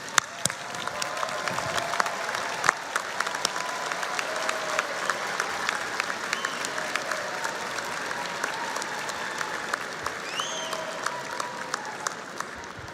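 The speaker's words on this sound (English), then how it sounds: "I'd like the graduates actually to stand up, find your family, and just give them a big round of applause." Sustained audience applause at a Sunday morning commencement ceremony for graduates, a steady dense clapping texture from a large crowd that continues unbroken throughout, with occasional louder individual claps standing out.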